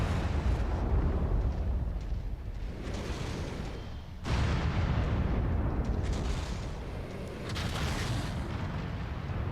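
Heavy mech weapons fire and explosions from the MechWarrior 5 video game, a dense, loud rumbling barrage that runs continuously with a sharp new burst near the middle and no talking.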